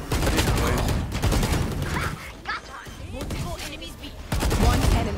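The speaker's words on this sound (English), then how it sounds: "This actually sounds insane when you're shooting and get multi kills." Rapid automatic fire from the Arcane Vandal rifle in Valorant comes in dense bursts with sharp punchy shots, split by short pauses. A player talks over the gunfire.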